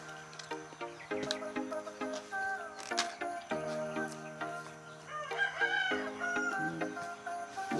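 Chickens clucking and a rooster crowing nearby, a busy run of repeated calls at moderate volume with no talking.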